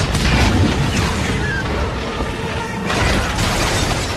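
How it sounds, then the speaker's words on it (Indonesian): Explosion in a film scene as missiles fired from a car blow up the ground, a continuous loud, dense blast of booming and shattering debris lasting several seconds. "Kato pun segera meledakkan bagian luar mobilnya hingga membuat tanah meledak"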